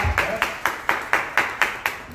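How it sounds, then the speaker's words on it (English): Claps ring out in an even, steady rhythm, about eight sharp hand claps spaced evenly, fairly close and clear over faint room noise. "You better clap on that. Clap. Yeah, clap."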